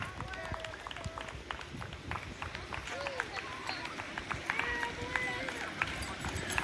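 First responders and police officers in full gear run past outdoors on a hot day, their quick footsteps blending with crowd noise, cheering and claps, while people talk and call out encouragement close by.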